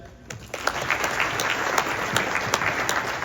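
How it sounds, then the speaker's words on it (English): An audience at a university IEEE semiconductor summit breaks into steady applause, a dense wash of many hands clapping that starts quickly and holds evenly with no one speaking. "Can we give it one more round of applause"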